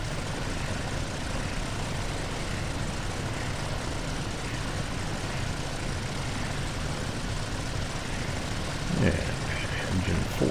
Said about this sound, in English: Engine 4 turning over